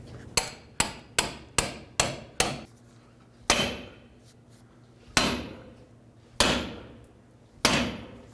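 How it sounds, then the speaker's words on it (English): Sharp metal hammer strikes ring out close by as a pickle fork is driven in to separate a front lower ball joint on a 2001-2007 Toyota Highlander: six quick blows in a row, then a few slower, heavier hits with ringing decay. "Now I'm going to get my pickle fork and just hammer it in here until the ball joint pops free."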